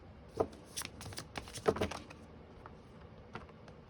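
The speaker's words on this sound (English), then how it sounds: "I'm going to go ahead and just live shuffle really quick." Tarot cards shuffled by hand in a few quick bursts of riffling and slapping, with short flurries separated by quieter pauses, close and moderately soft, no talking.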